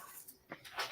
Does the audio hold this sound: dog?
yes